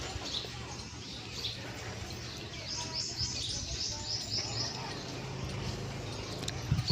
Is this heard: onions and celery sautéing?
no